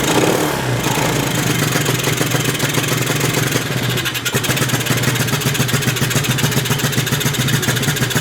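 A TaoTao 110 quad ATV engine idles unevenly and runs rich, a steady loud near putter with a rough, uneven pulse, alone throughout.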